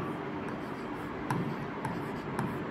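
Pen or pencil scratching steadily across paper while working out a Class 10 maths geometry problem, a soft continuous close-up scribble with a few brief taps, no talking.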